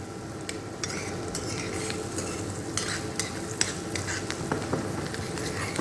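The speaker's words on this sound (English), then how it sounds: "So once the onions are sauteed, it will turn into translucent." Onions sautéing in a pan while being stirred, a close, steady sizzle and frying crackle with soft scrapes and light utensil taps.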